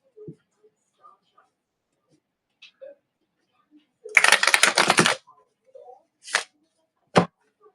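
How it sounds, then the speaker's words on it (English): A tarot card deck is riffled in one quick burst lasting about a second, followed by a couple of short, sharp card snaps in an otherwise quiet room. "make sure I give it a really good shuffle."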